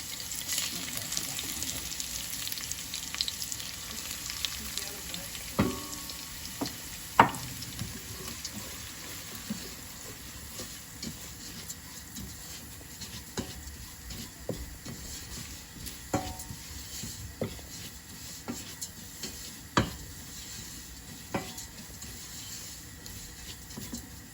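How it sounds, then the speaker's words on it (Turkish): Tarhana roasting in a pan on the stove, a faint, steady sizzling hiss broken by scattered soft clicks and scrapes of stirring, close and quiet with no talking. "bir iki dakika kavuracağım böyle"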